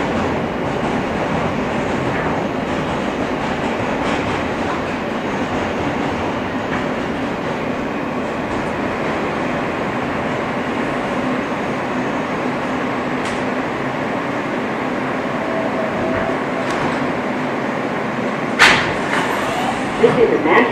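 Steady interior rumble and hum of an R160 subway car on a Manhattan-bound F train running via the D local line, continuous and loud throughout, with a few brief clicks and thumps near the end.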